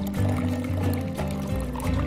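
Water runs steadily from a refrigerator's water dispenser into a container during purging of air from the water line, a continuous close pouring stream with no talk.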